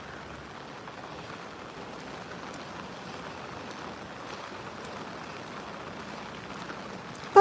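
Steady rain falls outdoors by a creek where platypus live, a soft, even hiss of drops that holds at a low level throughout and ends with a sudden louder knock.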